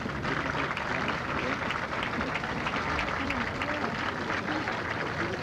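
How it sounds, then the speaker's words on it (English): The golf gallery behind the 18th green at the final round of the 1980 U.S. Women's Open at Richland breaks into sustained applause, a dense, even wash of many hands clapping from a sizeable crowd throughout. "there you see the gallery behind the 18th green applauding another shot"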